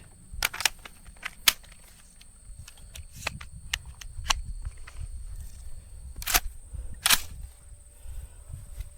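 Carbine gunshots ring out during a standing-to-kneeling shooting drill. Several sharp, loud cracks stand out against a low outdoor rumble, with two close together near the end.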